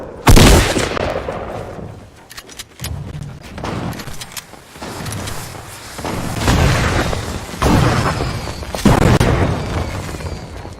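Grenade explosions in the Fortnite video game: a loud sharp boom opens, followed by several more booming blasts and bursts with crackling debris over about eleven seconds.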